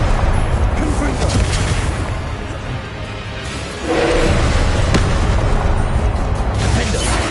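Confringo fire spell blasts in Hogwarts Legacy, a loud, dense booming explosion with rumbling low end that dips briefly before a second heavy burst sustains to the end.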